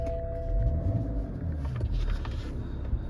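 A BMW X3 30d M Sport xDrive diesel idles steadily after start-up, a low continuous rumble with a faint whine early on, close and alone.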